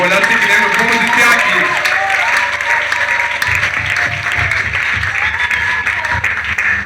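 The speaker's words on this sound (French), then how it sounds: "On acclame encore les Seigneurs." A church congregation applauding at a Friday service in Benin, dense sustained clapping filling the room with a voice speaking over it throughout.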